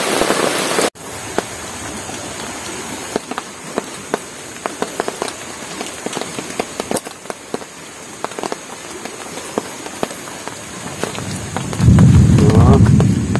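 Thunderstorm with steady rain pattering on a surface and scattered sharp drops, then a deep low rumble of thunder building loudly near the end.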